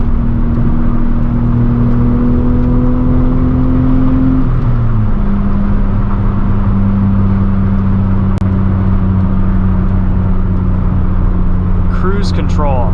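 A 1995 Ford Probe GT with a 5-speed manual, its engine humming steadily from inside the cabin with a pitch that drops partway through, as at a gear change, and a faint rustle near the end.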